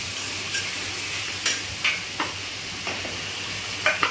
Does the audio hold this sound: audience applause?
no